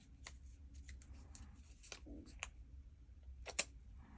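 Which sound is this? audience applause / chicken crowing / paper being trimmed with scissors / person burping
paper being trimmed with scissors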